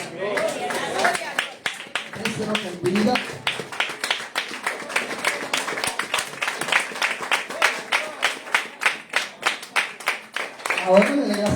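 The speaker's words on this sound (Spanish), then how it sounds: "Denle un aplauso a Jesús." A church congregation claps along in a steady rhythmic beat, with voices talking over the applause at moderate distance.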